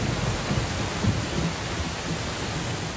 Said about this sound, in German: Dann bricht das Unwetter herein.